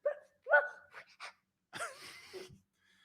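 A human voice imitates a dog barking, with a few short yapping bursts followed by a longer, rougher woof that trails into a whimpering whine.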